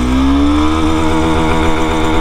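A Honda Hornet 2.0, a 180 cc motorcycle, pulls away hard in first gear, its engine note climbing steadily in pitch as it revs up, loud and close throughout.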